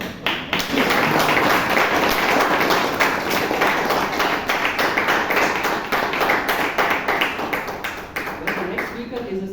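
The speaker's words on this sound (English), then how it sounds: "Can you have a round of applause?" A Toastmasters meeting audience in Bangalore claps a round of applause, steady dense hand claps filling the room at close range, gradually thinning toward the end.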